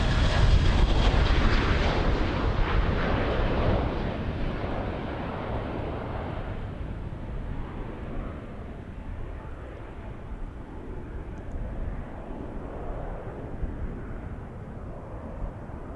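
A Delta Airlines jet at Amsterdam Airport's Polderbaan runway roars loudly at first, then fades into a broad, steady engine rumble that lingers at a distance.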